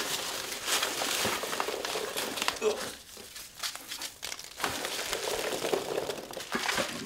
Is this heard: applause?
no